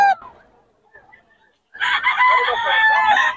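At a market, roosters crow loudly and close after a short quiet gap, following a brief clucking chicken call at the start.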